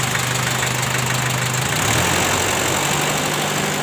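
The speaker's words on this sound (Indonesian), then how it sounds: "Suara mesinnya masih bagus, dan ini garing, gak ngobos ya teman-teman." A 1987 Daihatsu Taft Rocky engine runs at a steady, close idle, its low hum continuous and even, then rises slightly in pitch partway through as it is revved, with no talking.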